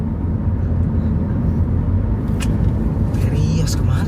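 A car drives slowly along a road in Jakarta while following another car. A steady, close road and engine rumble runs throughout, with voices talking over it.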